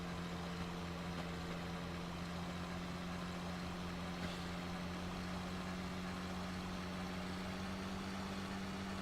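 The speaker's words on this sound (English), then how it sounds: "I think this engine needs seeing to. It definitely is misfiring badly at the moment." Tractor engine in Farming Simulator, a constant droning hum with a strong low tone and a faintly rough, uneven running note from a misfire, steady and unbroken with no speech.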